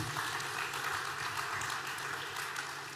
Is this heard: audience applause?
yes